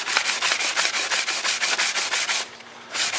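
Sandpaper rubs back and forth over a PVC flute in quick, even strokes, about a dozen close, loud rasps, with a brief pause near the end before the sanding starts again; no one talks.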